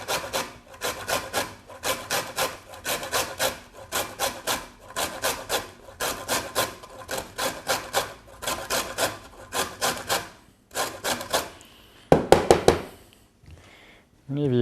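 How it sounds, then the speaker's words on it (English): Lemon zest grated against a grater for vegetarian sweet corn fritter batter: steady rhythmic scraping strokes in quick bursts, close and even, broken by brief pauses, a sharper clatter near the end. "Whenever you're grating the lemon zest"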